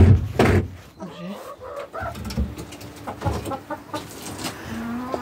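Hens cluck and coo inside a henhouse while laying, a run of soft throaty calls rising and falling close by, with occasional louder squawks and rustling among the nests.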